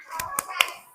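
Primary school class doing a rhythmic spirit clap, three sharp hand claps in quick succession with children's voices faintly mixed in, brief and close.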